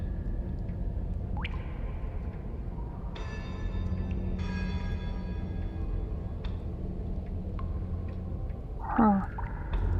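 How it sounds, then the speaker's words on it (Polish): Bells ringing in the video game Slay the Princess, a few resonant tolls with lingering overtones over a low ambient rumble, moderately faint, with no talking. "Słyszeliście, to były dzwony."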